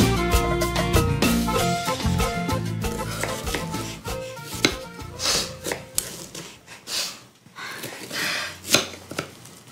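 A knife chops an onion on a cutting board, giving a run of sharp, close knocks that grow sparser and more irregular, with musical tones underneath in the first half.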